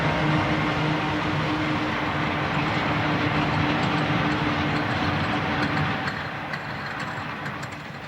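Eastbound freight train with four mid-train AC4400 diesel helper locomotives on the high Tennessee Pass line, a steady heavy engine rumble with droning tones, loud and close, easing slightly toward the end, no voices.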